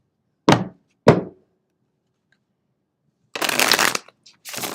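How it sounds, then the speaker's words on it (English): Tarot cards being shuffled in two quick separate riffs, followed by longer bursts of rapid card shuffling and riffling, crisp and close with quiet gaps between. "I will shuffle and draw 3 cards for the collective"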